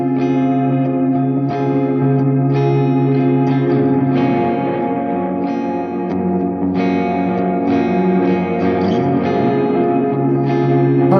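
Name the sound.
electric guitar through Mystery Brain and Wells delay pedals, Blood Moon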